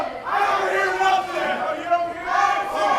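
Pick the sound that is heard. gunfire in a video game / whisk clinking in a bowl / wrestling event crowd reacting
wrestling event crowd reacting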